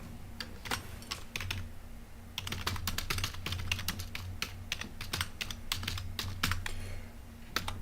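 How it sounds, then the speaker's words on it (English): Rapid, uneven clatter of keys on a computer keyboard, close and clear, with bursts and brief pauses over a faint low hum, no voices. "I'm sitting here typing"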